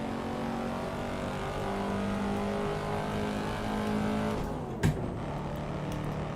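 Car engine in the Assetto Corsa racing sim holds a steady, loud drone through a gear, with one sharp click near the end and no talk.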